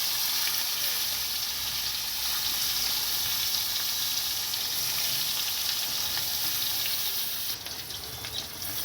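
Pointed gourd (kakrol) pieces fry in hot oil with a steady, dense sizzle that holds evenly throughout and shifts slightly near the end, with no talking.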